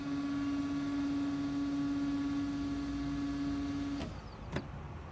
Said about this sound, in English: We'll try to print the report.